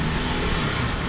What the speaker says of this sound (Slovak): a je tu docela veľká premávka